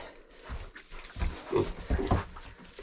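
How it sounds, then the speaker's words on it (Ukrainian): Two young gilts grunting at close range in a straw-bedded pen, with several short, rough grunts and snorts spread unevenly across the moment and no talking. "Це дві льошки."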